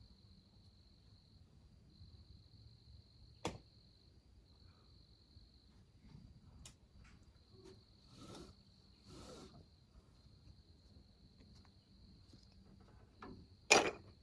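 Spring peepers call outdoors in a faint, steady high-pitched chorus, punctuated by a few scattered knocks and clatters nearby.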